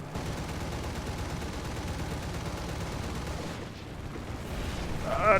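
Dense, continuous gunfire and rumbling combat noise from War Thunder air battles fills the mix, with a sustained roar of rapid shots throughout and a brief dip before it swells again.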